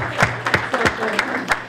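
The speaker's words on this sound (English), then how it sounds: "a round of applause for Brockton to include women in on the table" Applause at a chamber of commerce multicultural business forum, a handful of distinct claps rising over a murmuring room for about two seconds, with some talk underneath.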